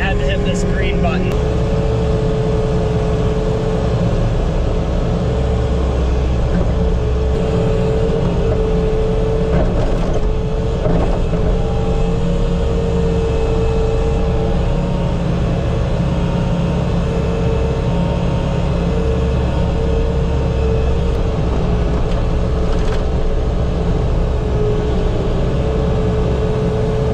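A Bobcat skid steer loader's heavy diesel engine runs steadily and loudly throughout, a constant low mechanical drone with a few brief clanks, in Lake Placid's Olympic village.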